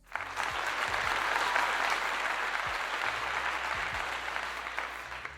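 Steady applause from a group of people, a continuous dense patter of clapping that holds evenly for several seconds at moderate distance with no voices over it.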